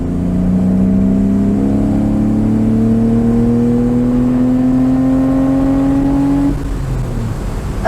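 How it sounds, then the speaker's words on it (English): A sports car engine revs steadily higher through an open exhaust, a loud rising drone that drops off abruptly near the end. "with that open exhaust, this thing really sings"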